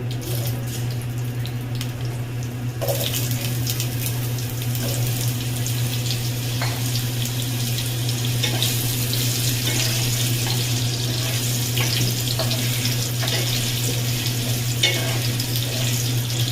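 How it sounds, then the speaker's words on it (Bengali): Potatoes frying in a pan, a dense, continuous sizzle that swells after a quieter start, over a low steady hum, with no talk. "এবার আলুগুলো ভেজে নেব।"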